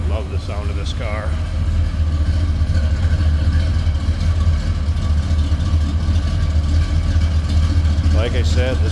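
A 1966 Chevrolet Impala Wagon idles with a steady, deep rumble up close. Someone talks over the engine at the start and again near the end.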